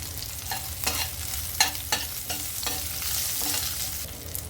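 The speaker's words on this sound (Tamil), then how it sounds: "வெங்காயம் பூண்டு வதங்கட்டுங்க." Small onions and garlic cloves sautéing in a pan for sundakkai vatha kulumbu, a soft steady sizzle broken by several sharp scraping stirs of a spoon, close and moderately quiet with no talking.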